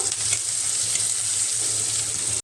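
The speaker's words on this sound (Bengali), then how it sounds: "পেঁয়াজ আর রসুনটা একটু ভালো করে নাড়িয়ে চাড়িয়ে একটু আবারও ভেজে নেব" Steady sizzling hiss of onion and garlic frying in a hot pan, constant and close, with a low hum underneath and no voices.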